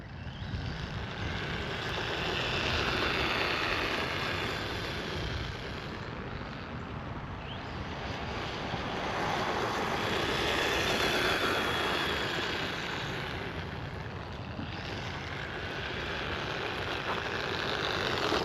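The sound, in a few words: Kyosho Sand Master 2.0 RC buggy driving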